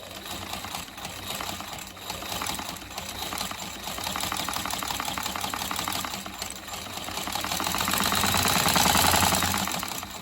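A sewing machine runs continuously, stitching a straight seam with a guide presser foot; its fast mechanical rattle stays close and steady, swelling slightly louder near the end.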